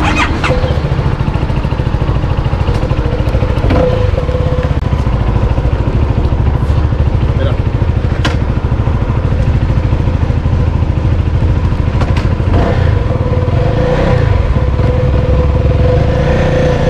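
CFMOTO 300NK motorcycle engine running continuously while riding, loud and close with a steady low drone, wind noise and occasional sharp ticks.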